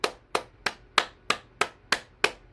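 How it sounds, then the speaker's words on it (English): One person claps their hands in a calm bouncing exercise routine, nine crisp, evenly spaced claps at a brisk steady rhythm, close and clear with no talk. "Clap your hands."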